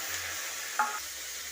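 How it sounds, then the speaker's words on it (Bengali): Okra fries in mustard oil with panch phoron and green chili, giving a faint, steady hiss. A single quick scrape of stirring cuts through the middle. "ভেন্ডিটাকে একটু লাল লাল করে ভেজে নেব"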